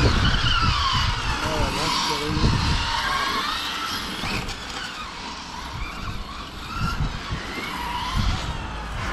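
A car, apparently a GT, skids at night as its rear end slides out in a car park, giving a long sustained tyre squeal over a loud engine roar, with a person talking over the noise.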